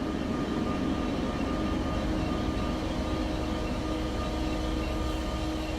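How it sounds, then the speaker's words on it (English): A steady low rumble of a train rolling past in a video game, continuous and fairly constant throughout, with no voices; a deadheading train heading to Hoboken. "Here comes this train."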